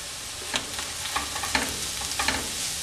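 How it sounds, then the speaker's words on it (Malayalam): Papaya thoran with coconut paste stirred in a pan, a few soft spoon scrapes over a steady low sizzle, close and alone. "നമുക്കിനി ഒന്ന് തുറന്ന് നോക്കി മിക്സ് ചെയ്ത് കൊടുക്കാം."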